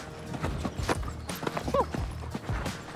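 A horse jumping during a young riders event: hooves thud and clop on the ground in an uneven rhythm, with a faint whinny midway, fairly close and moderately loud.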